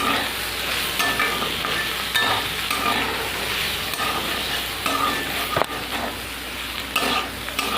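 Bitter gourd fries in a pan while being stirred, a continuous close sizzle broken by repeated scraping and clinking strokes of the spatula, with no talking.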